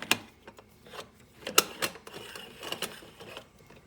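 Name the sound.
screwing the top onto a moka pot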